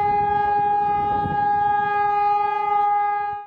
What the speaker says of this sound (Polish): O godzinie 8:41 w całej Polsce zawyły syreny.